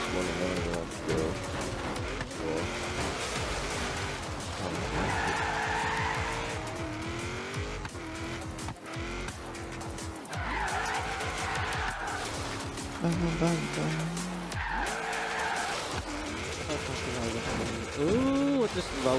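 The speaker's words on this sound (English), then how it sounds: "Ooh, I just rolled my car." Car skidding and rolling over in the racing video game Forza Horizon 3: engine revs, tire squeals and scraping clatter come in bursts over nearly twenty seconds, under ongoing talk and game sounds.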